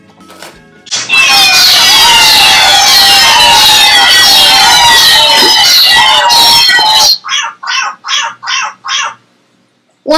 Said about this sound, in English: You hear the cop?